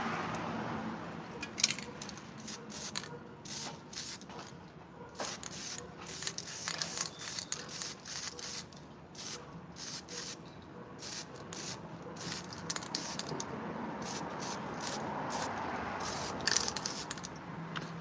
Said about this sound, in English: this is XPS, not XPF, XPS foam safe spray paint